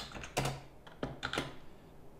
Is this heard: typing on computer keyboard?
yes